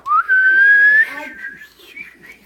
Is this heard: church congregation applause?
no